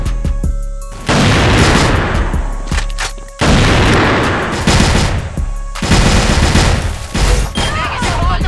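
Rapid automatic gunfire and booming grenade blasts in the shooter game CrossFire, loud and dense in repeated bursts with brief gaps between them.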